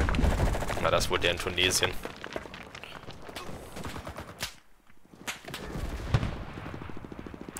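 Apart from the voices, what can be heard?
submachine gun fire in video game Enlisted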